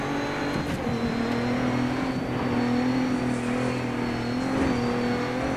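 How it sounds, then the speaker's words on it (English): Landrush truck in the Dirt 3 racing game, its engine revving in a continuous loud drone with shifting pitch as the wheels spin. "A lot of wheel spin."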